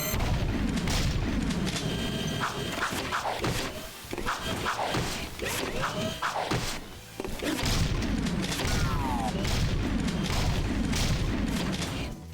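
Gunfire from Jak II, a video game, crackles in dense volleys of booming shots with thuds and explosions at steady high volume, the bursts coming in quick clusters and easing off only briefly.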